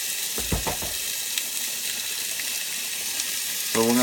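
Chicken cooks in a pan with a steady hiss of sizzling fat, a few brief clinks and faint sounds nearby.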